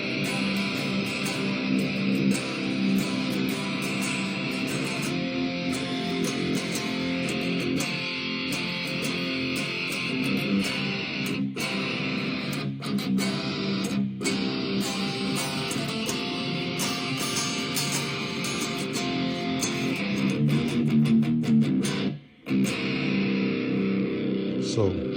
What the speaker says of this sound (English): But once you put distortion on this thing, some good gain, it just comes to life